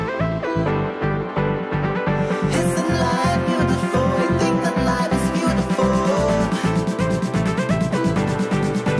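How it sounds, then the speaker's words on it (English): An orbital sander whirs loudly and close on wooden drawers, its motor hum steady under a rhythmic, pulsing scrape as it moves back and forth. "I'm going to be using my orbital sander to sand down"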